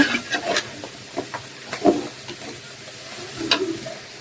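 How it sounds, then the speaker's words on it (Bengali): Vegetables sautéing with spices in a pan give a moderate sizzle, broken by several scattered scrapes and clinks of a stirring utensil. "এই যে সবজিগুলা দিয়ে দেওয়া হয়েছে কষানোর জন্য"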